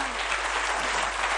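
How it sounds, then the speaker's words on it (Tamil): Audience applause at a Tamil-language event honoring a successful teacher eligibility test candidate giving a speech, a steady dense wash of clapping throughout, loud and close with no talk over it. "நல்ல கைத்தட்டணும் இந்த இதுக்கெல்லாம்."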